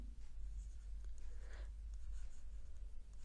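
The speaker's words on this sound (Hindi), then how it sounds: "तो देखो मैं यहाँ लिखता हूँ" Chalk or marker scratches across a classroom board during a math lesson, faint intermittent strokes over a steady low electrical hum.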